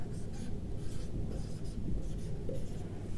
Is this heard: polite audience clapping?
no